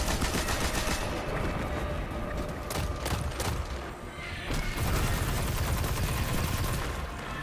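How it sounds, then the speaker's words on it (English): Machine gun fire in the Destiny 2 The Final Shape campaign: dense, rapid automatic bursts under a constant roar of battle, with a cluster of sharp cracks in the middle and steady heavy firing after. "Use your machine gun for it."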